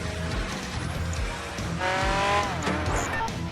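Racing car engine from Project Gotham Racing 3, a car with single exhausts, roaring steadily with rising revs and tire squeal near the end, loud and continuous under game sounds.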